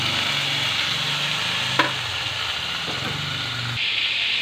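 Chicken neck pieces sizzle and fry steadily in a hot pan, a continuous broadband hiss with a brief sharp clatter partway through and low stirring rumbles underneath.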